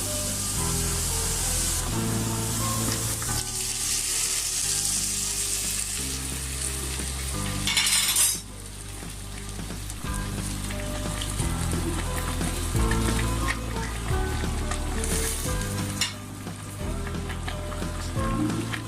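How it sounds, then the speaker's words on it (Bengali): Hot oil with fried onions is poured as a tempering into Bangladeshi beef nihari, making a loud, continuous sizzle with two sharper hissing surges over quiet background music. "আমি বাগার দিয়ে ফেলেছি"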